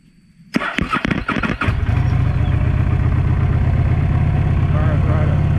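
After the choke is pulled, a small engine cranks with a few sharp bursts and then catches, settling into a loud, steady idle right up close.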